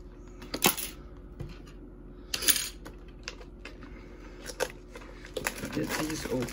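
Foil wrappers of Topps 2021 Series 2 baseball card blaster packs being torn open, sharp crinkling bursts in a few separate clusters against a quiet room background, fairly close.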